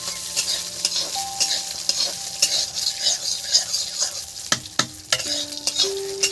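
Peanuts fry in a little oil while being stirred, giving a steady close sizzle with scraping strokes and a few sharp utensil knocks against the pan.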